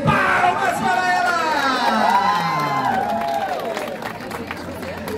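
Crowd applause and cheering greet a women's race podium winner receiving her trophy at the Toyota Empilhadeiras 2023 run in Artur Nogueira, with excited shouts and whoops rising over steady clapping from a lively outdoor gathering.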